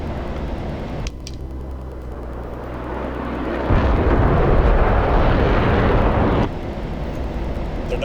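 An F-16 in the DCS combat flight game releases Mk82 bombs on an airfield target: steady jet engine roar, then a loud, rumbling, broadband blast lasting a few seconds before the engine drone returns alone.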